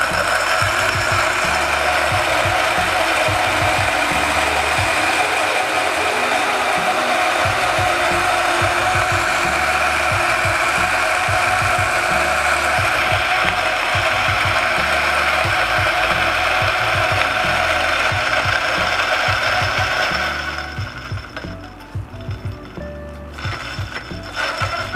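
A DF64V or DF83V coffee grinder grinds medium roast beans at speed 300, a loud continuous mechanical whir with steady rhythmic gear chatter that runs for about twenty seconds before winding down and stopping.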